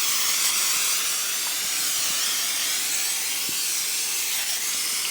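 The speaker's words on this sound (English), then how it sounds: "It's cooking spray." Cooking spray hisses steadily onto a rack of lamb, a continuous close, loud aerosol spray lasting several seconds without pause.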